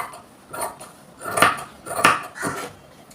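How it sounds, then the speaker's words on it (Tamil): Scissors trim extra blouse fabric at a tailoring table, with four or five distinct crisp snips at a slow, even pace, close and clear, and no talk. "இப்போ நான் எக்ஸ்ட்ரா இருக்கிறதெல்லாம் கட் பண்ணி எடுத்துக்கிறேன்"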